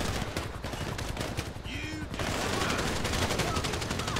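Dense, rapid video-game gunfire rattles nonstop through a chaotic multiplayer mission, with bursts of automatic shots layered over one another and a brief lull partway through.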